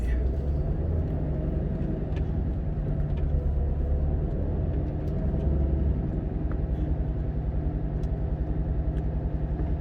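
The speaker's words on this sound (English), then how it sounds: "Backing up through my self-produced dust cloud." A truck backs up slowly across a dusty landfill, its engine a steady, continuous low rumble close by throughout, with no pauses or distinct knocks.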